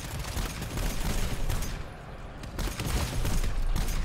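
Rapid, dense gunfire in the GTFO co-op shooter, several weapons firing in sustained bursts with a brief lull midway before the shooting picks up again.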